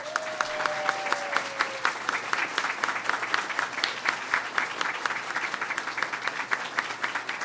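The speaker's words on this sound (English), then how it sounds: "Give them a big round of applause." Audience at an embassy staff event applauding, a dense, steady patter of many hands clapping throughout, moderately loud, with a brief cheer near the start.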